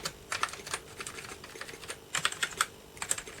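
Keys on an early Atari ST computer keyboard are pressed one after another, a close, quiet series of irregular clicks and clacks as each key is tested.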